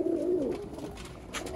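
Pigeons from a pigeon-keeping setup give a soft, close coo at the start that fades into a quiet background murmur.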